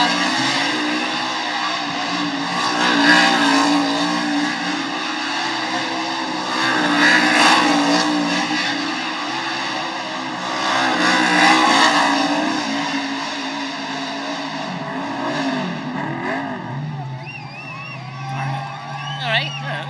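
A car tearing it up in a burnout on the Las Vegas Strip, with loud roaring engine revs and squealing tires rising and falling in several surges, under a crowd and commentary voices.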